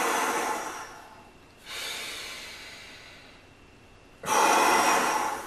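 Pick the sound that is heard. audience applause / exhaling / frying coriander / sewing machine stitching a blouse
exhaling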